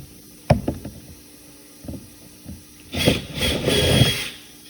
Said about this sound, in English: Just cleaning up my burrs there.